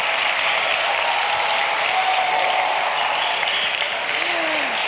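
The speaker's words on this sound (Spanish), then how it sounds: "Por favor, un aplauso, chicos" Audience applause welcoming an author to a talk, a steady dense patter of many hands clapping, loud and continuous, with a faint voice briefly heard near the end.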